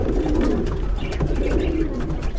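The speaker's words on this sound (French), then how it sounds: "surtout des pigeons de France." Pigeons cooing on a sunny rooftop terrace where sheep and poultry are raised, a low steady murmur of coos that continues throughout with no voices.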